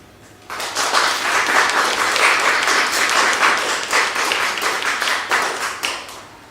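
Audience applause after a poetry reading, a sudden burst of many hands clapping that holds steady for several seconds and then thins out, fairly close and heard alone.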